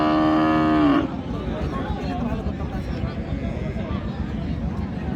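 One cattle moo rings out loudly for about a second at a busy livestock market in Dinajpur trading Sahiwal cows and calves. Crowd noise and people talking continue steadily afterward.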